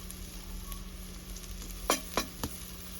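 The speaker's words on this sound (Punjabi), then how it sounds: "ਹੁਣ ਆਪਾਂ ਹਰੀਆਂ ਮਿਰਚਾਂ ਨੇ ਇਹ ਐਡ ਕਰ ਦਿੰਨੇ" Green chilies added to browned onions frying in ghee give a steady close sizzle, with a few sharp spattering pops near the end and no talking.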